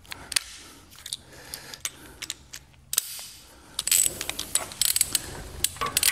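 A torque wrench tightening lug nuts on a Tesla Model 3 fitted with Vossen three-piece wheels, heard as close ratcheting clicks and metallic clunks in uneven bursts, growing busier toward the end.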